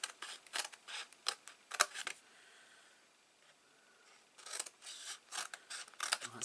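Small scissors snip through card in quick bursts of crisp close cuts, a pause in the middle, then another run of snips, with no talking.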